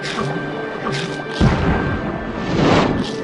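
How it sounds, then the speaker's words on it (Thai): A heavy explosion in the video game Feeding Frenzy booms at close range over rumbling background noise, followed by a rolling swell of sound. "ผมได้ยินเสียงระเบิดหรือเปล่า"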